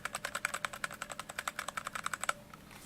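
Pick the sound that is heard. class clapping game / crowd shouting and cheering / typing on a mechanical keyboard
typing on a mechanical keyboard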